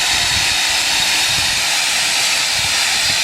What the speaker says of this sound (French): C'est quoi ce bruit? C'est quoi? Du gaz.